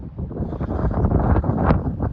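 Gusty wind buffets the microphone on a mountain trail beside a meadow in Johnson Canyon, North Kananaskis, a low rumbling roar that swells and dips in uneven bursts, loud and close.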